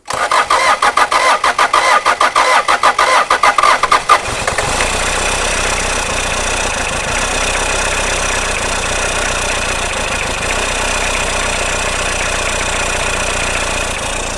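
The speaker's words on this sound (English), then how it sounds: "It's a running Hilux." A Toyota Hilux pickup, long sat in a shed, cranks with a rapid rhythmic starter chatter for about four seconds, then catches and settles into a steady, loud, slightly breathy idle.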